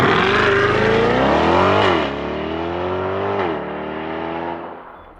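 Engine of a 2024 Corvette E-Ray switching to gas mode, heard from outside: a loud, sustained engine roar that rises and dips in pitch twice as it revs, then fades away at the end.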